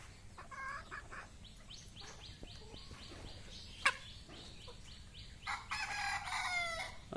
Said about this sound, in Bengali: এটা হলো মোরগ